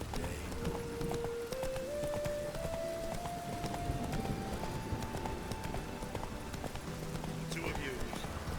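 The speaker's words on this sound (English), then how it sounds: "Whoa there, Roach" Horse hooves clip-clop steadily in a video game, a rhythmic trot running under talking voices and game music throughout.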